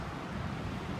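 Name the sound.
strong wind blowing outdoors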